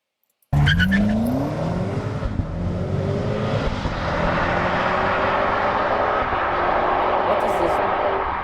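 A 2025 BMW M5 G90 starts up and revs, its engine rising in pitch, then settling into a steady, fairly loud drone that holds for several seconds.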